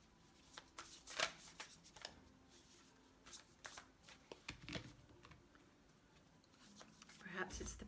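A Quantum Tarot card deck is shuffled by hand, with soft repeated riffling and tapping bursts scattered through the passage, fairly quiet and close.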